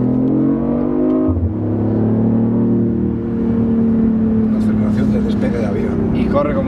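A BMW i8 Roadster accelerates hard, its engine note climbing in pitch, dropping at a shift and building again, loud and close, while someone talks over it.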